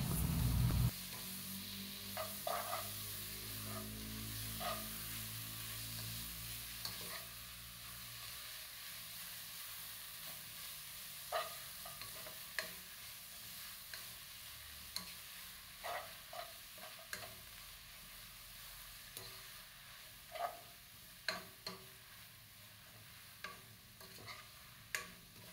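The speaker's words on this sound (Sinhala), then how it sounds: "දැන් මම මේකටම හතු ටිකත් එකතු කරනවා. හතු ටිකත් එකතු කරලා මේක හොඳට කලවම් කරනවා." Mushrooms being stirred and fried in a pan, Sri Lankan tempered style: a loud opening burst of sizzle settles into a steady hiss, broken by repeated sharp scrapes and clicks of a spoon against the pan.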